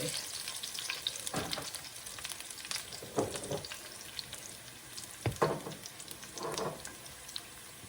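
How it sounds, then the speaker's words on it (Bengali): Onions sizzle in a pan on the stove with panch phoron spice, a steady frying hiss broken by several louder bursts of stirring and scraping, close and without talk. "পেঁয়াজ চুলার মধ্যে দিয়ে দিচ্ছি, আর একটু পাঁচফোড়ন দিব।"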